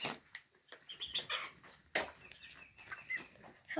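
Chickens and a rooster cluck and call on a homestead farm, with scattered soft clucks and a brief flutter of wings at fairly close range, fairly quiet and without talk.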